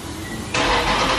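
A 2020 Dodge Charger Scat Pack engine cranks and catches at once, jumping into a loud, steady rumble that holds as an idle right up close, with no one talking.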